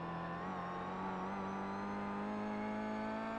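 Race car engine in the iRacing sim at Mount Panorama, 2018 BSRTC Pro Series, holding a steady droning rev throughout, close and continuous with no talk.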